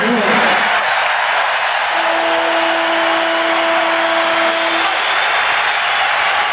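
A Chicago Stadium-style arena crowd roars at a 1992 Bulls vs Knicks basketball game, a loud continuous wash of cheering and noise with a sustained horn-like tone held for several seconds in the middle.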